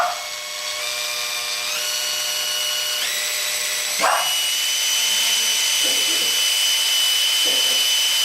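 A cordless drill spinning a rotator whirs continuously, its high whine stepping up in pitch as it speeds up toward 1000 RPM, loud and steady throughout.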